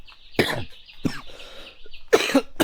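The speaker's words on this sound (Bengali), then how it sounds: "ওয়েদার চেঞ্জের কারণে কাশিটা চলছেই।" A person with a cough brought on by a change in the weather coughs close to the mic in about three or four harsh bursts separated by short quiet gaps.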